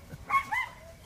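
Dogs at a house on a suburban street in Fontana, California yip and bark in short, faint bursts, close together in quick succession.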